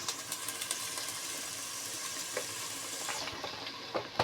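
Spice paste of onion, garlic, ginger, cinnamon, cardamom and bay leaf fries in a pan with a continuous close sizzle, punctuated by occasional stirring clicks and scrapes, no voices.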